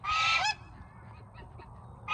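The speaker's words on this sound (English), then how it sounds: "They need a guard goose, right?" A goose gives one loud, close honk at the start, then a quieter call follows after a short pause of near silence.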